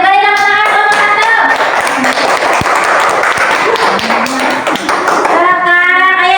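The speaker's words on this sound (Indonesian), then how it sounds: "Beri tepuk tangan kelompok" Classroom of pupils clapping hands together for a group, a dense burst of quick claps with children's voices and chatter over and around it, close and loud.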